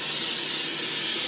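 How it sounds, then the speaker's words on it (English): Fat-free cooking spray hisses from a can onto a hot pan in one loud, close, continuous burst. "So some fat-free cooking spray that'll make it not stick."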